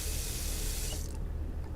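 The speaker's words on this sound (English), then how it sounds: "as you turn on the sink faucet" A bathroom sink faucet runs cold water in a steady, close hiss of pouring and splashing that drops off sharply partway through, leaving a low residual rush.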